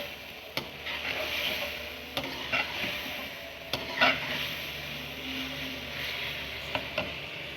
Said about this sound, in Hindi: चिकन, इसको अब अच्छी तरह भूनेंगे।